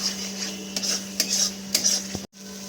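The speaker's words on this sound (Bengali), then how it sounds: "মশলাটাকে আরেকটু ভালো করে নেড়ে ছেড়ে নিতে হবে।" Spice masala for bhetki fish kalia sizzles in a pan while a spoon stirs it, giving a few distinct scrapes and clinks over a constant frying hiss that cuts out briefly near the end.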